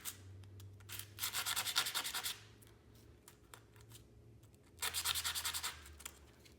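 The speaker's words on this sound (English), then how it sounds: "just a piece of sandpaper on a flat surface" A tiny woodruff key is rubbed back and forth on sandpaper laid on a flat surface, two close bursts of rapid rhythmic rasping strokes separated by a quieter pause, with a low hum behind.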